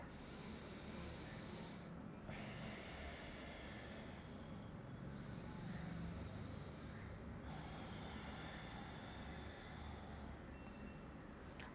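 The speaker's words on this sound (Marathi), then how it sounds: "आपली डावी नागपुडी बंद करायची आहे उजव्या नागपुडीने श्वास घ्यायचा" Alternate nostril breathing exercise: slow, forceful breaths drawn in and pushed out through one nostril at a time, with a steady hiss of air and brief pauses between breaths, heard up close with no talking.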